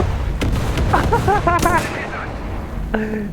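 Tank cannon shots and gunfire crack out in War Thunder as several sharp bangs and bursts, followed by a rattling mechanical burst, under a steady engine rumble with some talk.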